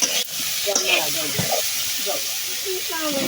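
Potatoes fry in oil in a pan for a tilapia fish curry, giving a steady close hiss and sizzle with occasional stirring scrapes, while a voice talks faintly underneath.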